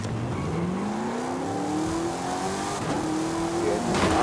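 Car engine in Forza Horizon 5 revs and climbs steadily as it drives into another car, a continuous loud drone with rising pitch and faint tire noise, no talking.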